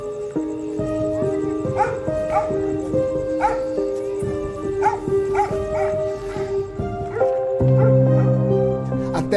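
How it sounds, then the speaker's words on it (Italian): A dog barks and yips late at night near a murder scene, several sharp barks over a droning musical bed with sustained tones, fairly loud and continuous. "C'è un cane che abbaia in un silenzio irreale."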